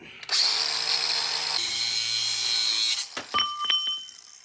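A power grinder whines loudly on a custom steering link for about three seconds, pitch dropping briefly midway, then cuts off into a few sharp clinks and clatters.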